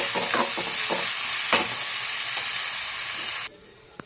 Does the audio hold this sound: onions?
yes